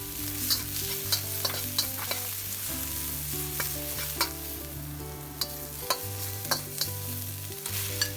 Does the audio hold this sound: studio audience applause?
no